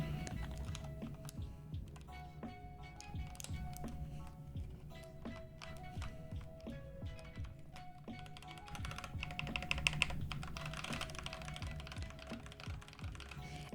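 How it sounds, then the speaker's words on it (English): Fast, continuous typing on an Asus hotswap keyboard fitted with Shadow keycaps, close and clattery, with many quick key strikes and a few louder thocks near the end, and no talking. "by changing up the keycaps, we've ruined the sound of the keyboard"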